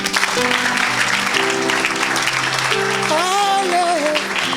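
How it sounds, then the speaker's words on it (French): A church congregation applauding during a worship service, dense steady clapping from many people alongside sustained singing or instrumental tones that rise and fall. "Acclamons le Seigneur."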